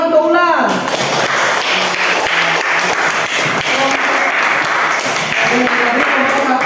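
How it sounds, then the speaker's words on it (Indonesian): Schoolchildren in a primary school classroom clap for a classmate, a dense, loud burst of applause that starts abruptly and carries on steadily with children's voices chattering over it. "tepuk tangan untuk Ulan"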